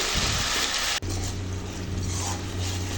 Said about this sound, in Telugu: కలుపుకుంటూ ఫ్రై చేసుకోవాలి